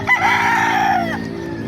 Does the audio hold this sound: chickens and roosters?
yes